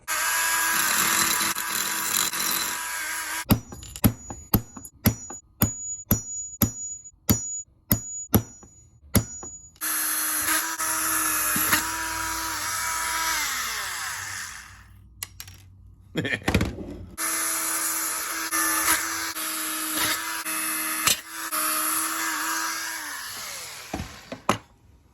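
A small power tool shapes and drills brass spinner pieces for a snow ski, running in long buzzing stretches broken by a burst of sharp rapid clicks and pauses, with a voice now and then.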